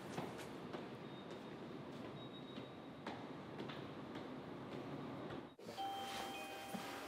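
A Korean subway train ride: a steady rumble of the carriage, wheel clatter and faint ticks, with a sudden drop and shift in the noise near the end, heard quietly from inside.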